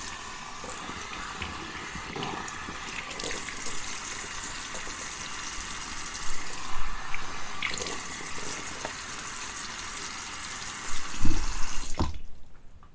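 A bathroom tap runs in a steady, close hiss of water into a sink for wetting the face before shaving, with brief splashes and hand movement, ending when the flow is shut off.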